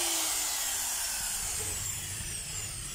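A power drill runs steadily at close range, a continuous high motor whine with slight shifts in pitch and no voices.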